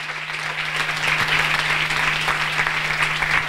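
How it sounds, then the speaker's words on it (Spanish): Strong applause from a crowd at a union rally, rising quickly and holding as a thick, steady roar of clapping over a constant low hum. "¡Un fuerte aplauso!"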